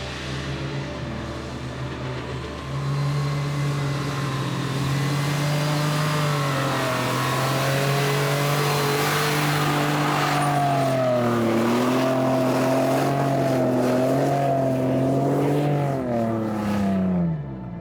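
A Ford Bronco engine drives hard through deep sand on an overland route in Utah, a loud, continuous roar that rises and falls in pitch as the engine revs and strains, close and steady throughout with no talk.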